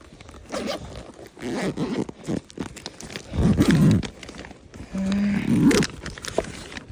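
A zipper is pulled open in several rough, rasping bursts with short pauses between, close up, with some rustling handling noise, on the Appalachian Trail.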